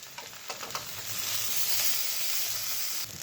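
Cashews and raisins sizzle and hiss steadily in a hot pan, with a few soft clinks and scrapes of stirring near the start, the frying growing slightly louder and ending abruptly.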